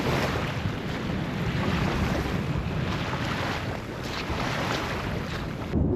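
Small waves lapping at the shore of Loch Assynt in northern Scotland, a continuous soft wash of water mixed with wind buffeting the microphone, steady throughout with no voices.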